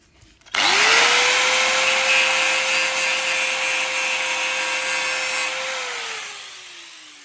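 A grinder spins up and grinds a Mazda MX-5 NC Miata car body down to bare metal during rust repair. It gives a loud, close, steady high whine over harsh abrasive hiss, then slowly winds down near the end.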